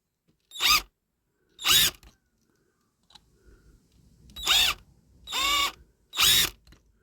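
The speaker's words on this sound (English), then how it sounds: "I've just picked this drill bit because it's big enough just to get the heads off these." Drill bit grinding the rivet heads off a 1969 Matchbox No. 42c Iron Fairy Crane diecast model with a plastic base, in five short loud bursts separated by pauses, close up.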